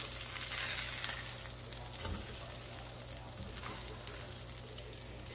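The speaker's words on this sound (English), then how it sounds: "I'm just browning them in this Hexclad pan" Pork chops fry in a Hexclad pan, browning with a steady close sizzle and crackle that carries on throughout without talk.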